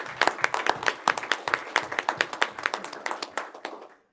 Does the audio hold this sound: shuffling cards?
no